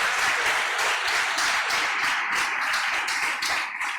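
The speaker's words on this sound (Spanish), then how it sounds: "le voy a pedir que le dé un aplauso a la iglesia del Señor" Church congregation applauding together during a worship service, a dense sustained burst of many hands clapping with steady intensity throughout.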